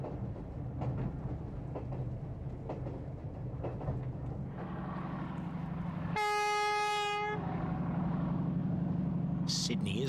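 An express train on the Byron Bay to Sydney service rumbles steadily past, its wheels and engine a continuous low roar, and a long clear horn blast sounds midway before the rumble resumes.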